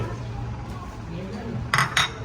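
A plate of kachori is readied at a Nadiad kachori shop as dishes clink twice in quick succession near the end, set against a low background murmur.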